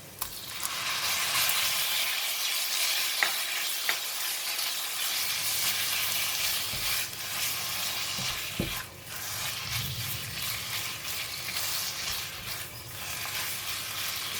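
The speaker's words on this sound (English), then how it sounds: "Let's fry the ginger, and we're going to put in the beef." Ginger and beef tenderloin stir-fry in a hot pan, giving a steady, close, loud sizzling hiss with light scraping and stirring throughout.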